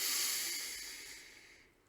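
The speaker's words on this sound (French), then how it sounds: "Vous inspirerez par le nez, vous bloquerez la respiration et expirerez par la bouche." A single slow breath drawn in through the nose, a soft airy hiss that starts near and fades out over about two seconds, quiet and alone.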